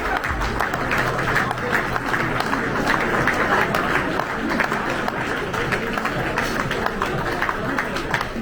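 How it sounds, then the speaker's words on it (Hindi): Loud, sustained applause from a large audience honouring India's women's hockey team after their Tokyo 2020 performance, steady dense clapping throughout with crowd noise and no talk over it. "जोरदार तालियां please for the women's hockey team who made our country proud"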